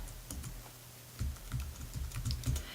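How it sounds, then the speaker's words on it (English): Login details typed on a computer keyboard, a quiet run of close, uneven key clicks with a short pause before a quicker burst of taps. "So I'm going to go ahead and I'm going to type that in."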